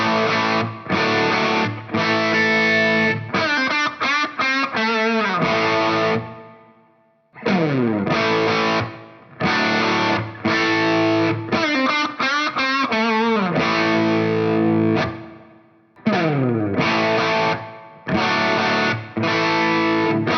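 Loud, heavily distorted Les Paul-style electric guitar playing chunky chords and riffs, with sustained crunchy notes and brief pauses between phrases.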